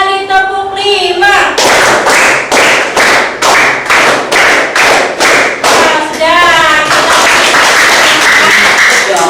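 A classroom of students claps a rhythmic pattern together, about a dozen sharp, evenly spaced group claps in a steady beat, with children's voices chanting before and after.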